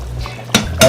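Lid lifted off a boiling pot of curry chicken gives two short metallic clanks close by, a fraction of a second apart, over a soft simmering background.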